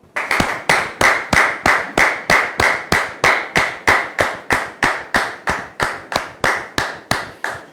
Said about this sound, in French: Djiké sous vos applaudissements, s'il vous plaît